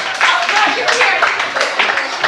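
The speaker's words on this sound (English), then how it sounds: "Let's give them all a big round of applause." Audience members at a Courtyard Playhouse master class clap in a brief, brisk round, with scattered voices mixed into the steady patter of hands.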